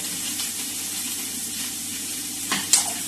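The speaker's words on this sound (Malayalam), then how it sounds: "ഇതെല്ലാം വഴറ്റിയെടുക്കണം." Onion and carrot sautéing in a pan make a steady, close sizzle and hiss, with a few brief scraping stirs toward the end and no talk.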